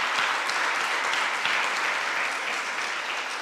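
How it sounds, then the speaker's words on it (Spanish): A church congregation applauds in praise, a steady and even roar of many hands clapping that fills the room and carries on without any break. "Si vas a aplaudir, aplaude."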